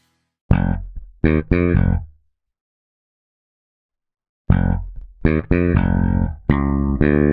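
Two bursts of loud, sustained tonal notes, heavily compressed with a 1 ms attack and 1000 ms release, sound smooth, even and dull, separated by a few seconds of silence.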